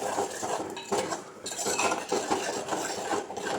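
A spoon scrapes and clinks steadily around a pot of Kerala-style ginger curry, a continuous close rasping and stirring texture with no talking.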